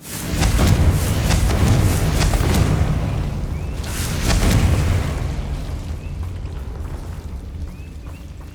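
Rolling magical blast explosions from a fire spell in a Hogwarts game, two heavy booming swells with crackling bursts, loud and close, fading into a low rumble with no talking.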